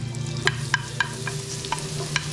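Chopped garlic (bawang) fries in a pan, giving a steady close sizzle with a handful of sharp utensil taps from stirring and no talking.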